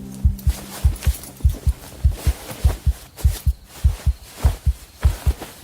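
Loud, pounding heartbeat sound effect in a steady lub-dub rhythm, roughly two beats per second, heavy and close, with no voices over it.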